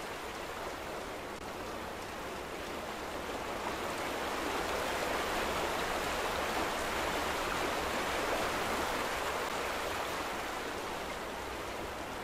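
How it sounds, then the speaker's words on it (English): In The Vanishing of Ethan Carter, water flows in an unbroken rushing hiss, like a stream or heavy rainfall, swelling slightly midway and staying steady with no voices. "Sure, there's a lot of water sounds around here."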